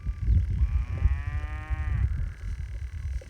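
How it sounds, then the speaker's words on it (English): A neighbour's cow lets out one drawn-out moo, rising and steady for about a second and a half, heard over low rumbling wind and outdoor farm noise on a grazing paddock. "A wee neighbour cow come for a visit."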